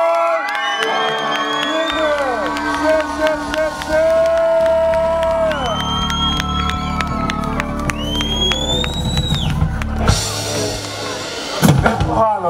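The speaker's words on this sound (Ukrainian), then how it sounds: "Отож бо, ваші бурхливі оплески для Степана!" A large crowd cheers and shouts at an outdoor town-day festival in Irshava, Ukraine. The loud, sustained roar rises and falls with whoops and children's shouts over a tonal background.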